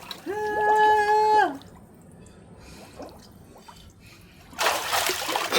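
Someone plunges into water in a homemade bath tub, producing a brief, loud splash near the end after a quiet pause. A short tonal sound is heard earlier.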